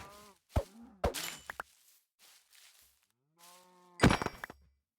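Cows in the Minecraft video game give several short lowing moos spread across the clip, including a loud, dense burst near the end, with no talking over them.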